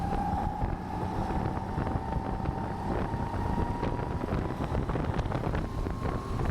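Wind gusting hard into a microphone at a karting track on a rallycross course, a loud, buffeting rumble that fills the whole stretch, with a steady engine tone droning underneath.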